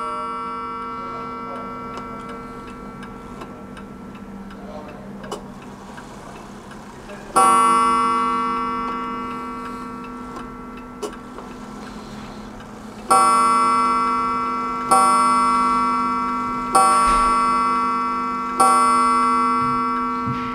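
A vintage Seth Thomas mechanical clock ticks steadily and softly, then sounds loud ringing chime strikes that decay slowly, with several strikes spaced a few seconds apart toward the end.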